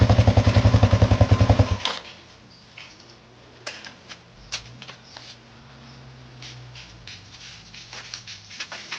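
A repaired motorcycle engine idles close and loud with a rapid, even chugging for about two seconds, then cuts out, leaving faint ticks and scattered small knocks.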